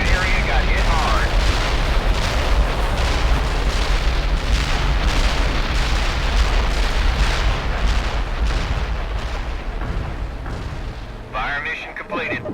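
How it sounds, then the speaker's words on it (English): Heavy artillery barrage in the real-time strategy game World in Conflict, a dense, continuous rumble of overlapping booms and blasts that fades toward the end, with radio-style voices speaking over it. "Artillery barrage turned the target area into dust."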